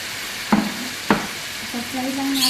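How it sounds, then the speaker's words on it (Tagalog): Potatoes and carrots fried in a pan for chicken menudo, heard close up as two short scraping stirs over a soft sizzle, then a faint rising hiss toward the end. "Fry lang natin ito guys."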